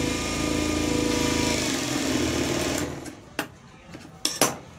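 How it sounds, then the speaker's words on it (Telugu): Sewing machine stitching a blouse, running steadily for almost three seconds, then stopping and giving a few short separate bursts of stitching near the end. "దానిపైన స్టిచ్ పడేదాకా ఇలా కుట్టు అనేది వేసేసుకోవాలి."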